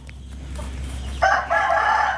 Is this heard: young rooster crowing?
yes